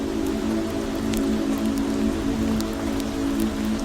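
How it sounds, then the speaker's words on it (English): Soft, steady rain patters on the surface of a lake, an even continuous hiss with occasional faint drips and a low steady hum beneath, no voices. "The only sounds you can hear are the gentle pattering of raindrops"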